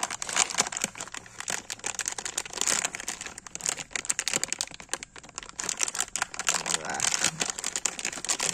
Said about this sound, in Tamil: இது ஜிப்லாக் கவர் மாதிரி தான் இருக்குது ஓகேங்களா. இதை ஓப்பன் பண்ணிக்கலாம்.